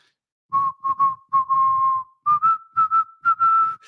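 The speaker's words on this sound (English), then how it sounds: "Man, that whistle, man." A clear, loud whistle carries a short tune of repeated notes in a bouncing rhythm, with breathy gaps between phrases.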